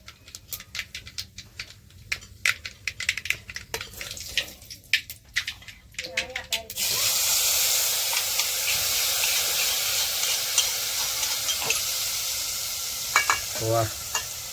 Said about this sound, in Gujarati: તેલ તો મસ્ત આવી ગયું હો. તો હવે આપણે એમાં નાખી દઈશું મસાલો.